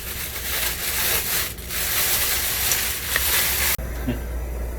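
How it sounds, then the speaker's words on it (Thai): Continuous dry rustling and rubbing of chicken pieces being shaken in starch in a container, steady and fairly loud, stopping abruptly near the end. "จากนั้นเราก็เขย่าให้แป้งมันเข้า เนื้อกับไก่นะคะ"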